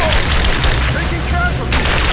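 Sustained gunfire from a firefight in the video game Rise of the Tomb Raider, a loud, dense barrage of rapid shots mixed with booms running throughout, with voices shouting over it.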